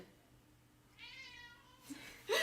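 A cat lets out a couple of drawn-out meows close by, the second louder and sharper, over a quiet room background.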